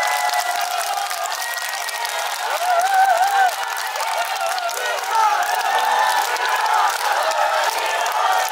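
A cinema audience at a Korean film stage greeting claps steadily and warmly throughout, with a few cheers and voices rising over the sustained applause.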